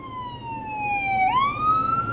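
A single ambulance siren wail, a clear tone gliding down then sweeping back up, loud and fairly close with road noise beneath.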